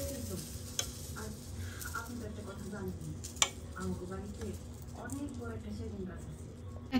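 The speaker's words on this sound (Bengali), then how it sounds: "পিঠাটা একটু নাড়িয়ে দিচ্ছি।" Pitha cakes are stirred in milk sweetened with date palm jaggery, producing soft scraping and gentle bubbling at low level while a voice talks throughout.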